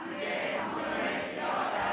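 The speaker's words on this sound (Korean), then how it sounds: "함성" A church congregation shouting together in a Korean Sunday worship service, a dense sustained roar of many voices, loud and even for the whole moment.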